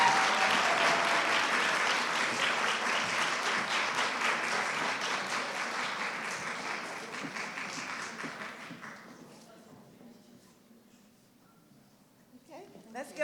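Applause for award winners at a student art scholarship showcase, a thick crowd of clapping that goes on for several seconds before thinning and fading out, with a few scattered claps and a voice after it dies down.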